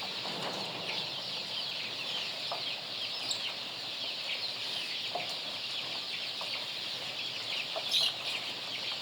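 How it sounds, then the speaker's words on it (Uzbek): Young roosters and hens cluck and chatter continuously on a poultry farm, a steady mid-distance flock sound with occasional sharper calls and a brief louder burst near the end, no talking. "Mana xo'rozchalar ajragan, mana xo'roz."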